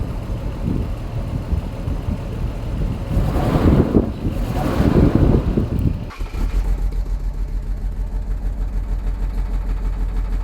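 A cheap classic Jaguar XJS engine runs lumpy, its uneven, pulsing idle steady and close after a stretch of loud wind buffeting on the microphone.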